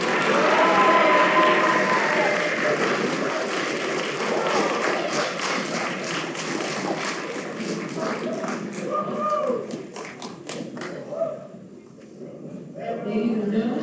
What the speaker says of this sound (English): Ladies and gentlemen, a round of applause for the new members of the Queen's Academy